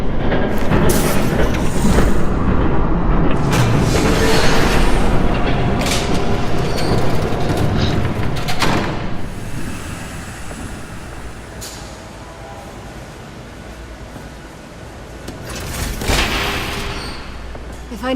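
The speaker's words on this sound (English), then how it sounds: "There's a train coming." A train rumbles past in a Batman video game, loud and continuous with rattling clatter, fading somewhat midway before swelling again near the end, with game dialogue voices over it.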